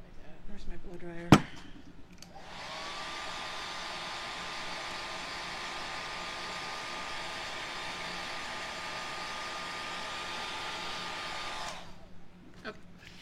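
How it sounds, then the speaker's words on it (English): A blow dryer whirs on with a steady airy hiss for about nine seconds, close and moderately loud, then switches off. A sharp knock comes just before it starts. "Where's my blow dryer?"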